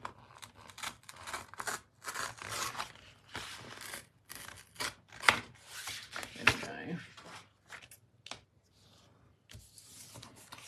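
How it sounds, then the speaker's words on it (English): Paper tears along a score line in a series of short, quick rips and rustles at close range, interspersed with handling noises and a couple of sharp clicks. "I'm just going to tear along that score line."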